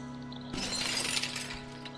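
Glass shatters in the video game Stray, a single loud, sudden crash that keeps crackling as the shards scatter for over a second over a steady low hum.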